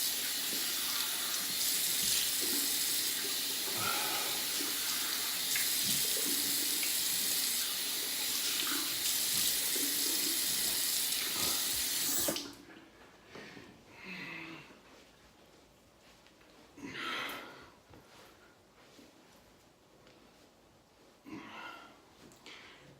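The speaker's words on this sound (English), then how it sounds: "let me rinse my face off" A tap runs steadily into a bathroom sink while a face is rinsed, a close, continuous gush for about twelve seconds, then stops, leaving faint splashes and drips.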